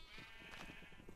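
Sheep from the video game Minecraft bleating once in a single wavering bleat, faint and alone with no talk.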